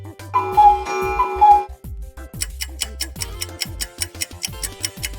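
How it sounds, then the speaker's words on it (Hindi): A clock ticks in an even, steady rhythm, close and clear, after a brief opening of chiming tones, with nothing else over it. "यह आवाज तो घड़ी की है।"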